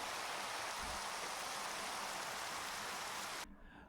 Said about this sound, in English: I slept through the night to stop the rain because it was quite annoying.